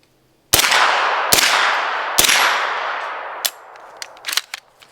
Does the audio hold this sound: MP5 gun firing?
yes